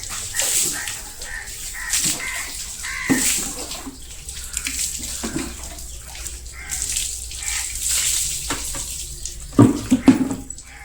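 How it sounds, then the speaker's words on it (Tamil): Water poured over a cow being washed in a cowshed, repeated splashing gushes landing in bursts, fairly close, with a few brief sharp knocks and no clear talk. "ஃபஸ்ட்டு மாட்டுக்கு மேலே ஃபஸ்ட் நல்லா தண்ணி ஊற்றிட்டு"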